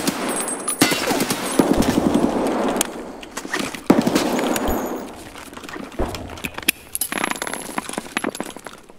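Gunfire in Escape From Tarkov, sprayed through a wooden crate in bursts of sharp cracks with clinking and debris between volleys, loud and close, separated by short pauses.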